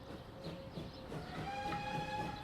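Trains in the railway game Transport Fever give off a steady rumble, with several sustained whistle tones rising and holding over the running noise.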